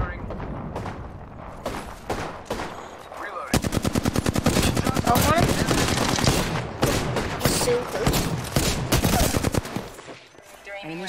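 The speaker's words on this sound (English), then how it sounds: "Firing." Rapid automatic gunfire from Apex Legends gameplay, dense bursts of shots and clattering fire building to near-continuous volleys, loud and close with brief pauses.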